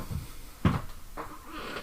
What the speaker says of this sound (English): It's just a very noisy chair, but I love it.